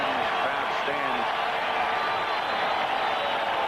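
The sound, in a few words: football stadium crowd cheering for the defense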